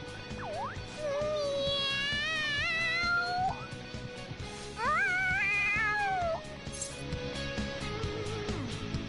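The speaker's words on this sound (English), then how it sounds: "The cat's acting awfully excited." Video game cat from Persona 5 Royal meowing excitedly in two long, rising and wavering calls, loud and close over quiet game background music, with no talk over it.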